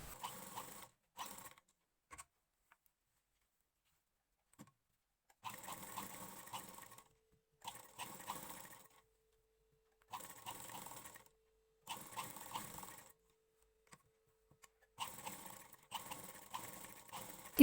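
A sewing machine stitches a lining onto a blouse neckline in repeated short runs, each burst of whirring separated by brief pauses, close and moderately loud with no voices.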